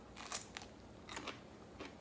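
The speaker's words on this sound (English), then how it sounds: "Do you hear that crunch?" Pickled okra, made crunchy with alum, crunches as it is bitten and chewed: a few faint crisp crackling bursts spaced apart over low background noise, with no talk.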